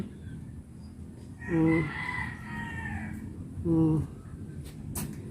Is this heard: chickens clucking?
yes